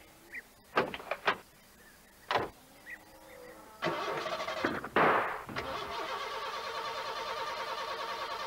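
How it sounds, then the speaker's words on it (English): A van engine cranks and sputters without catching, preceded by a few sharp knocks or clunks, then a longer grinding starter whir that continues steadily, close and fairly loud. "She won't start, Ted."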